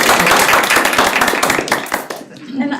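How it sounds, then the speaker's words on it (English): A small group clapping at a city council meeting in Hendersonville, quick close claps with audible voices mixed in, thinning out and fading near the end. "We should clap."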